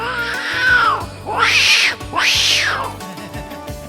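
A person imitates an angry cat, letting out three drawn-out, rising-and-falling yowls in close succession, loud and close.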